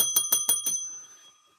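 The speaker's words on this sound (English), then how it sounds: "Every time cat bell rings, the short loses money." A small bell, the cat bell on a stock-trading livestream, is struck five times in quick, even succession, each ring bright and close, leaving a clear metallic tone that fades out alone afterward.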